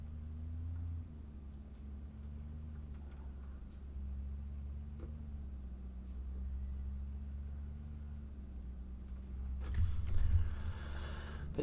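A low, labouring truck engine drone in Euro Truck Simulator 2, held steady as it strains uphill, with a louder rumbling surge near the end.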